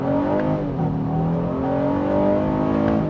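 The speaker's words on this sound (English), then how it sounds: "We can try one out in first gear. Open her up a little bit on the gas." A 2025 Honda Ridgeline Sport accelerating hard in first gear, its engine note rising steadily in a loud, continuous drone heard from inside the cabin, with no talk over it.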